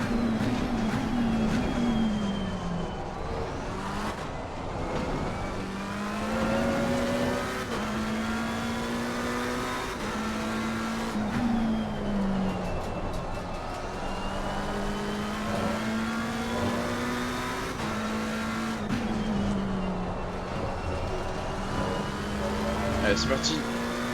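Race cars lap a circuit in a 14-car session, heard as a constant loud engine drone with rising and falling revs and gear changes. Voices talk over the engine noise throughout.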